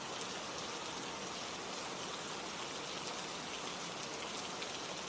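Steady rain falls in a dense, even hiss of countless drops, loud and unbroken the whole time, with no voices.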